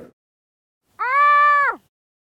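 A single loud scream of about a second inside an anechoic chamber, voiced alone and cutting off dead with no echo or lingering tail.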